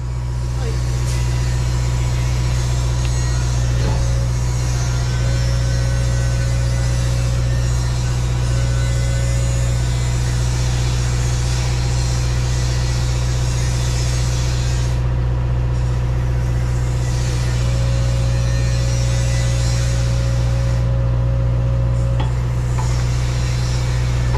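A hydraulic breaker runs during a test: loud, steady machine drone with a strong low hum held close up throughout, brief dips in the upper noise near the end.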